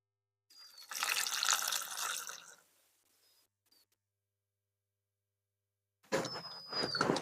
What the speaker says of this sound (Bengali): গোটা গোটা বেগুন ভালো করে ধুয়ে নেব জল দিয়ে।